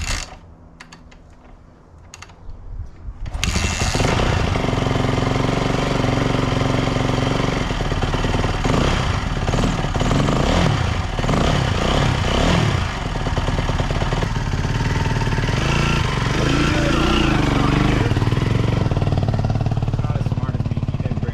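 An old motorcycle engine kicks into life after a few quiet seconds and then idles loudly and roughly up close with a steady rapid chug, with occasional faint voices beneath it.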